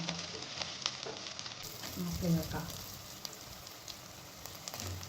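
Two plump green chillies frying in a pan while ridge gourd kadaisal is being cooked, with a steady crackling sizzle throughout and a person's voice speaking briefly near the middle.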